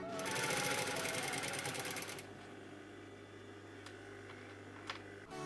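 Sewing machine stitching through a fur tail, a fast buzzing run of needle strokes for about two seconds that then stops, leaving quiet room hum and a couple of faint clicks.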